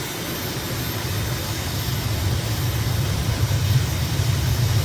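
An aircraft engine throttles up in Microsoft Flight Simulator, a low steady rumbling drone that swells gradually louder over several seconds, heard on its own.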